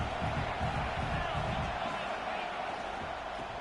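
A stadium crowd in the video game College Football 26 roars as a steady, loud broadband wash that swells early on, then holds through the rest of the clip.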